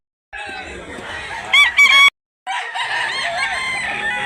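A rooster at a Cebu farm in Mantalungon, Barili gives a loud, close crow with a strained, rising call, cut by a brief silence, then further clucking and crowing from the flock follows.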